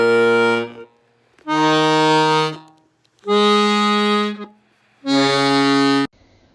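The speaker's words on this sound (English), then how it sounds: "Here's the sound of bass row 1 before the alterations." Accordion bass row 1, before alteration, sounds an octave for each note: four separate sustained reedy bass tones, each held about a second with short silent gaps between, loud and close with no voices.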